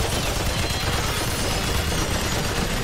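A light machine gun in the video game Remnant 2 fires a sustained, dense burst of rapid shots that blend into a loud, continuous roar.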